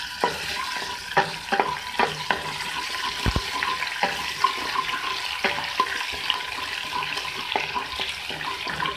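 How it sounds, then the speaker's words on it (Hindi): Garlic ginger paste frying in hot oil for an egg karhai, a steady close sizzle broken by repeated sharp scrapes and clinks of a spoon stirring in the pan, no talking. "अब मैं ऑयल में डालूंगी लहसुन अदरक का पेस्ट।"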